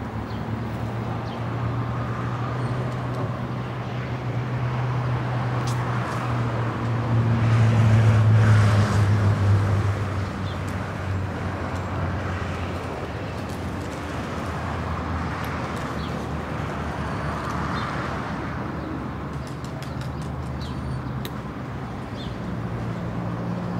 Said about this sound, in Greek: μην περιμένετε να ακούσετε και βαζούρες τώρα με τόσο θόρυβο που έχουν τα αυτοκίνητα